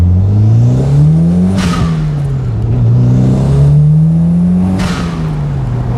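A 1991 Toyota MR2 with a swapped-in V6 Camry engine and custom exhaust accelerates hard in first gear, its loud engine note climbing twice in pitch with a sharp break at each shift-up.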